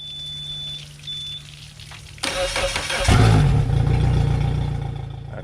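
A hurricane-salvaged outboard motor first clicks and whirs during cranking, then catches and starts, settling into a loud, steady running roar that continues to the end.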